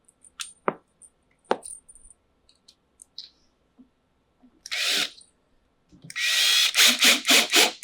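A power drill drives screws into a PVC reptile rack. A few sharp clicks and knocks come first, then short bursts of whirring, and finally a loud, pulsing run of drilling that ends the clip.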